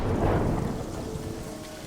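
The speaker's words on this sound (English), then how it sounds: "There is the sound of torrential rain, thunder and lightning." Torrential rain in a thunderstorm sound effect, a dense, loud wash of downpour with a low rumble of thunder swelling early and then fading slightly, with no voices.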